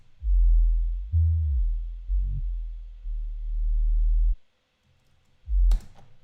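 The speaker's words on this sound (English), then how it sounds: "So if we solo it, this is just the sub." Clean sub bass synth soloed in Ableton for neuro bass sound design: deep, pure low tones in several sustained notes with small pitch bends, separated by brief gaps, ending with a short bright click.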